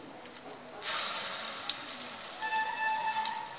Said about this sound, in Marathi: मी क्रश केलेलं लसूण टाकते